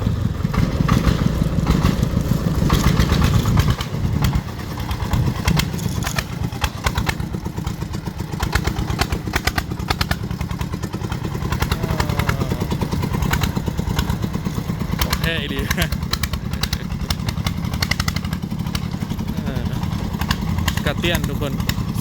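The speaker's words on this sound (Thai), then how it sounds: "รถไถนะ" A farm tractor engine runs steadily at a campsite near a volcano in Laos, a loud continuous mechanical chug and clatter close by throughout, with people talking over it.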